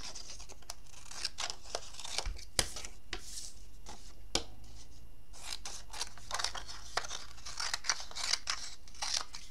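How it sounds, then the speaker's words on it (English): Scissors snip through a sheet of paper being trimmed for a small handmade paper handbag, a close, quiet series of crisp irregular cuts in bursts with brief pauses between. "Now I'm just going to cut it down to a workable size."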